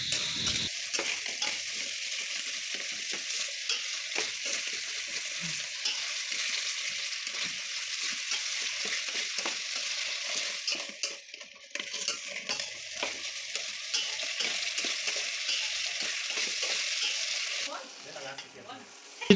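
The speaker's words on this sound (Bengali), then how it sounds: "নেড়ে নেবো।" Egg curry masala with a spoonful of sugar fries in a pan while being stirred, a loud continuous hiss and sizzle with rapid scraping strokes, briefly easing off near the end.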